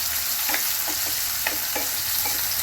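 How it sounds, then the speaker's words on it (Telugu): Curry leaves frying in hot oil alongside onions: a steady sizzling hiss throughout, with a few sharper crackles and stirring scrapes at irregular intervals, close and moderately loud. "అలాగే కరివేపాకు, ఇది చక్కగా ఫ్రై చేసేసుకోవాలి."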